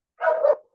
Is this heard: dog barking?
yes